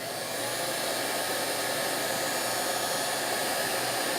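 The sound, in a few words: heat gun shrinking heat shrink tubing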